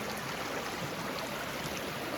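Water flows in a low summer creek outdoors, making a steady, even rush of broadband noise that holds unchanged throughout, with no voices over it.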